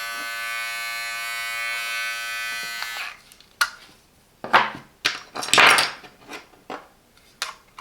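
A Silvercrest 5-in-1 hair and beard trimmer runs with a steady electric buzz for about three seconds, then switches off, followed by several clicks and plastic knocks of attachments being handled, close and without talk.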